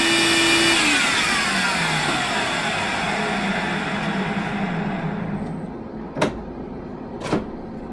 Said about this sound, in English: I just blow, and I can blow a lot of that dirt off